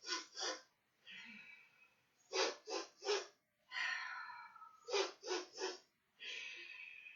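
Rhythmic nasal sniffing in groups of quick inhales followed by a longer exhale, repeated three times; close, soft human breathing imitating a rabbit sniffing.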